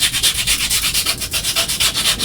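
Rapid rhythmic sanding around the edges of a craft badge, a bright scratchy rasp repeating in quick even strokes, close up with no talking.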